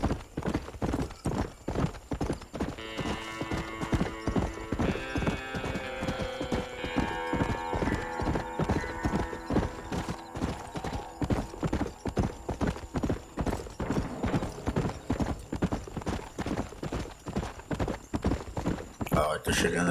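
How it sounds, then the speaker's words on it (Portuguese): Rhythmic hoofbeats of horses in Red Dead Redemption clip-clopping at a quick pace, with a horse whinnying and faint music underneath, steady throughout. "Já passando o pessoal de cavalo por aqui"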